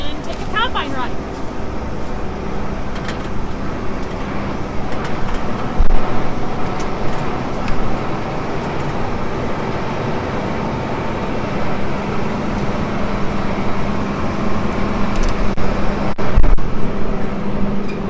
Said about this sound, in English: we're gonna get up in here and take a combine ride